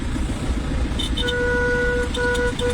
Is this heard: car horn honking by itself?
yes